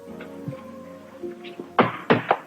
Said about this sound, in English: I've heard knocking.